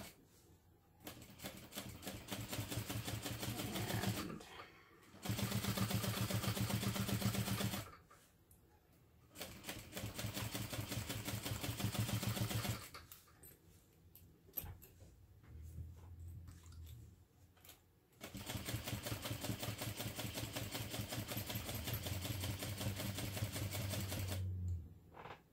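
Sewing machine stitching a 1/8 inch seam with backstitches at the start and end, running in four steady mechanical bursts separated by short pauses, close and fairly loud, with no talk.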